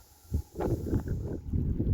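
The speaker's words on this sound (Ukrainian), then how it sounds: "Вітер, дуже великий вітер." Strong wind buffeting the microphone in rough, rumbling gusts on a fishing trip, loud and close, with no voices.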